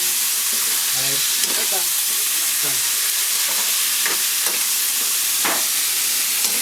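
Bicol express stirred and cooking in a pan, a loud continuous sizzle with a few scraping strokes of a utensil, and a voice briefly speaking over it early on.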